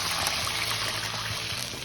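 Water is poured into a pan while rawa upma is being made, a steady close rushing trickle that carries on without a break for the whole moment, with no talk over it.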